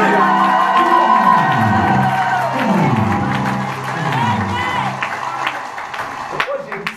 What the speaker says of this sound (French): Maintenant, les acclamations.